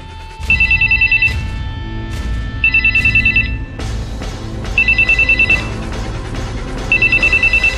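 An old-style telephone bell rings loudly in four evenly spaced bursts over a steady low background, inside a security guard post in a Vietnamese television drama; no one speaks.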